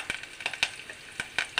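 Curry leaves crackle and sizzle in hot oil in a pan, a first step for a raw mango and coconut dish. Close, fairly quiet sharp pops and spits come in an irregular, rapid run.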